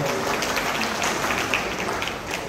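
An audience applauds to welcome retiring teachers at a Marathi service felicitation event, a dense continuous patter of many hands throughout.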